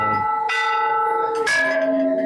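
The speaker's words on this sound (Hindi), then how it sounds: "ये मुख्य द्वार का ये घंटा है" A large bell at the main gate of a village forest-goddess temple is struck twice, each clang ringing out with a long, bright, shimmering sustain that overlaps the next strike.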